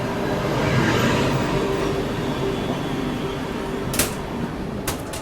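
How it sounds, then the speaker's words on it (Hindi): Maharashtra Express hauled by a WAG 12B electric locomotive pulling out of Badnera Junction in the rain, a continuous loud rumble of rolling wagons with a few sharp metallic clanks near the end. "चलिए भाई निकलने का सिग्नल, और गाड़ी भी निकल चुकी है बडनेरा जंक्शन रेलवे स्टेशन से अपनी।"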